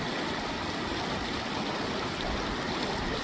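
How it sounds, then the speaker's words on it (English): Spring water runs over the ground in a steady, close rushing trickle with no break throughout. "The water is running that way into over there."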